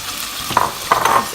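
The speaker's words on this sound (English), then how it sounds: "Now would be the good time to toss in your onions," Onions hit a hot pan for a spinach cream pasta, bringing a bright, close sizzle with two short louder bursts of frying over a constant hiss.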